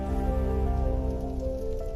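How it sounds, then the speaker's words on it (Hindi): Steady rain falling, a continuous dense patter that stays even and moderately loud throughout, with no voices. "बारिश अभी भी हो रही थी"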